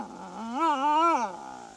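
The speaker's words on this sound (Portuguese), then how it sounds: "os dingos raramente latem. Em vez disso, eles uivam e gemem." A single wavering, whining howl from a dingo, rising and bending in pitch for about a second before fading, close and clear.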